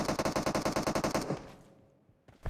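A fast burst of automatic gunfire in a shooter game, a dozen or so close, evenly spaced shots that cut off and give way to quiet, with one more faint shot near the end.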